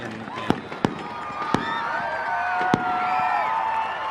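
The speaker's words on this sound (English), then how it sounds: "fireworks going off in the far" Fireworks burst at the far end of a high school football field during a playoff game, with several sharp distant cracks and whistling streaks over a steady crowd roar and a commentator's voice.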